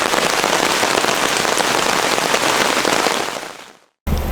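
Heavy rain pours down in a dense, loud, steady hiss close by at a deer hunting camp, then fades out and cuts abruptly.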